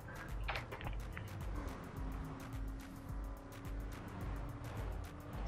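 Cars driving in the racing video game The Crew, with a continuous engine drone and tire noise close up under no talking.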